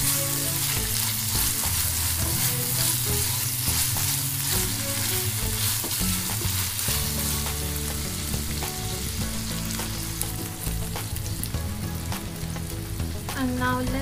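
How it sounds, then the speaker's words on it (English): Tomatoes and ginger garlic paste fry for prawn masala, giving a loud, dense, continuous sizzle close by, with faint scraping of a spoon; near the end a brief clink sounds over the frying. "Along with tomatoes, add the ginger garlic paste."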